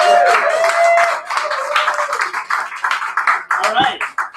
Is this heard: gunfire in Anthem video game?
no